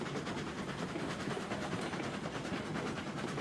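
Train cars in the video game Railroads Online roll steadily along the rails, a dense, continuous rumble with a rapid clickety-clack rhythm, loud and close with no talking.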